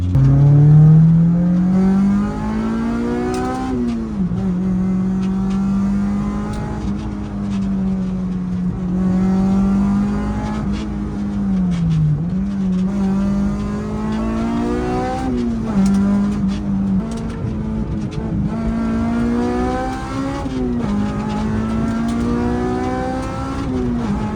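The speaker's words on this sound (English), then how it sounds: "Dude, this car's pretty fast." An Integra car engine revs hard and climbs through the gears, loud and close, with rising and falling tones as it accelerates fast on a private road.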